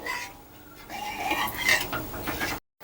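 Utensil stirring thin milk into Bengali rui fish malai curry in a pan over medium gas, with close scraping and clinking against the metal in short irregular strokes, ending in a brief silence.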